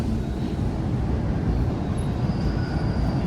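A Toronto Bloor-Danforth Line 2 subway train running, a loud, continuous rumbling roar of wheels on track heard from inside the car, with a faint high squeal coming in partway through.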